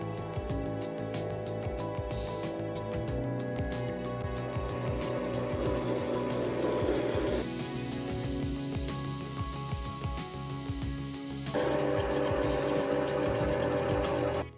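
A home workshop lathe takes light cuts with a homemade silver steel cutter on a syringe engine part, giving a steady mechanical whir with a faint ticking, ratchet-like chatter that shifts in tone partway through.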